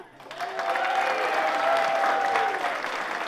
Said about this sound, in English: you guys cheer and clap and applaud